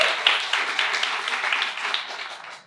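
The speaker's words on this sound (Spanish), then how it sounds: "Un aplauso para vosotros," Audience applause at an improv theatre show, a dense burst of clapping from a crowd that starts loud and gradually fades over a few seconds.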